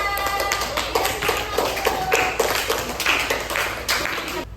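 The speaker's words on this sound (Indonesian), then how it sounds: "untuk kelompok 2 kita kasih tepuk tangan." Classroom clapping for a student group during a coding lesson, a cluster of nearby hands patting in uneven bursts from a small group, fairly close and without talk.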